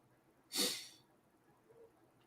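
A single sharp sneeze bursts out close by, followed by quiet room noise and a faint murmur.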